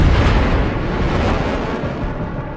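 An explosion in a film: a deep, sustained rumbling blast fills the clip, loud and dense with low-end roar that slowly eases over a few seconds.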